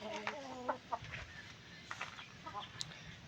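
Hens cluck at a farm where laying hens are kept and sold, giving a few short, scattered clucks and calls at moderate distance over a quiet outdoor background.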